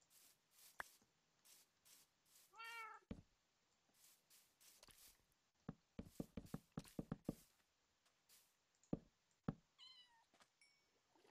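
A Minecraft cat meows several times, with short synthetic cries spread across the stretch among sharp block-placing taps and clicks, all fairly quiet.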